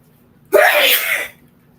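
One person sneezes, close and loud. The sharp burst lasts under a second over a quiet background.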